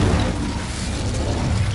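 A fire spell cast in the video game Hogwarts Legacy gives a sustained, loud whooshing roar with rumbling low end that stays steady for under two seconds, with no voices.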